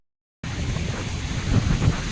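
Strong wind blows outdoors as a steady, loud broadband rush with gusting swells, starting abruptly after a brief silence.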